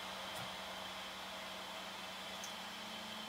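A 3D printer housed in a briefcase prints and extrudes, giving off a faint, steady fan-like hum with a constant low drone and no distinct stepper motor moves.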